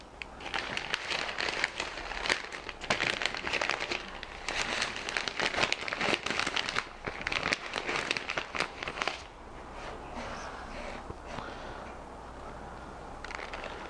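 Salted filet mignon steak slipped into a plastic sous vide bag: close, busy crinkling and rustling of plastic for about nine seconds, then fading to a quieter hiss.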